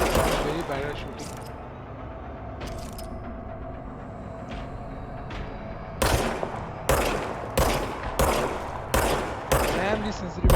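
A gun firing in the video game Control, a rapid series of sharp loud shots in the second half, preceded by quieter game ambience and a person talking.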